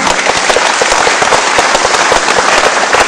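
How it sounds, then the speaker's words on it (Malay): A large audience gives thunderous applause for a founder at a gathering, dense continuous clapping at close range throughout. "Kita beri satu tepukan yang gemuruh kepada pengasas yang kita cintai, Datuk Safar Haji Umar."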